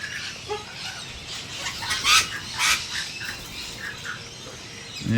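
Harsh, raspy sulphur-crested cockatoo screeches burst out several times amid other bird calls outdoors, loudest in the middle of the stretch.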